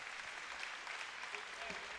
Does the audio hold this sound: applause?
yes